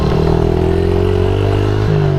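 A Suzuki DRZ 70 mini bike pulls hard under acceleration, its small engine buzzing close and steady as the pitch climbs, then briefly dropping as it shifts.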